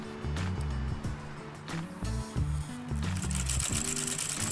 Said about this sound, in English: we're going to do what they call a satin stitch, which is a really very tight zigzag